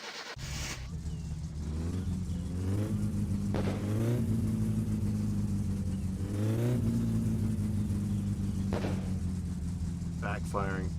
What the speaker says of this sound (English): Backfiring.